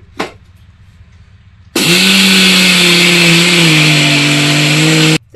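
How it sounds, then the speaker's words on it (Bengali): Electric mixer grinder whirring loudly as it grinds washed rice into a paste, starting abruptly after a brief knock and running steadily at high speed for several seconds before cutting off. "আমি মিক্সিতেই পেস্ট করে নিচ্ছি।"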